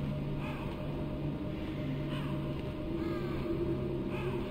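Crows caw repeatedly in the Metal Gear Solid video game, harsh calls recurring over a constant droning game soundscape with low steady tones underneath.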